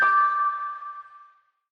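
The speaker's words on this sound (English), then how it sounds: "Ding dong" A single doorbell chime rings out loud and close, with a bright tonal strike that slowly decays into silence over about a second and a half.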